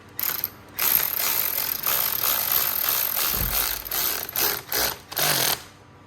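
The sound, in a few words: tightening shift lever bolt with number 5 Allen key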